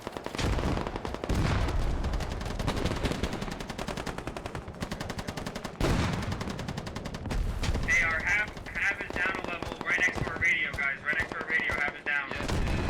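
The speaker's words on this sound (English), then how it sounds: "It is extremely loud over here, just popping off as mortars landing behind us." Loud, dense bursts of automatic gunfire and booming mortar impacts from a military shooter game set in urban Fallujah with Russian airborne troops, continuous and close, with voices over the combat.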